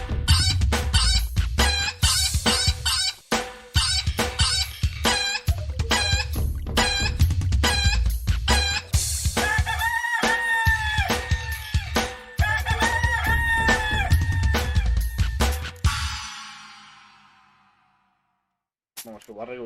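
Rooster in The Witcher 3 video game, crowing and clucking loudly alongside honking fowl for about sixteen seconds before fading into near silence; no speech is heard.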